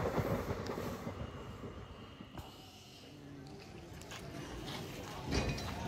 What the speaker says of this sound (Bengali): আর খুব তাড়াতাড়ি সিউড়ি স্টেশন ট্রেনটি ঢুকে যাবে।